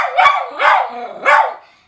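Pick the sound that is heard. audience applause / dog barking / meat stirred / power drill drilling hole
dog barking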